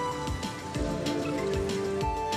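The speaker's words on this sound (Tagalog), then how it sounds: "Yan, oh. Ulan." Rain falls onto a surface outdoors, a dense steady patter with close drops striking, alongside some tonal background hum and no speech.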